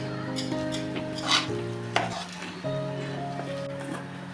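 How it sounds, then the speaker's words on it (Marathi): Thick medu vada batter being stirred and mixed by hand with green chilli and coriander, soft wet squelching strokes over a steady tonal background hum, with a couple of brief louder clicks. "आता हे सगळं एकजीव करून घेते असं"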